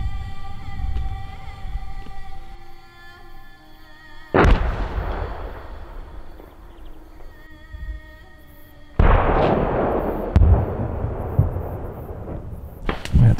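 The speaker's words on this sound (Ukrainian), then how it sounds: "Я так чую, наша артилерія теж нормально насипає." Artillery fire with cluster munitions near Bakhmut, heard as two heavy booming blasts followed by crackling rippling bursts, then further sharp cracks, set over a steady low rumble and a faint high-pitched hum, with no talk.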